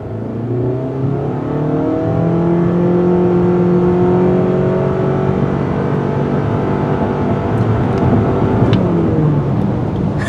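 A 2019 Mitsubishi Outlander SUV engine strains under hard acceleration, a loud sustained drone whose pitch climbs steadily through rising harmonics and settles as speed builds, heard from inside the cabin with no talking.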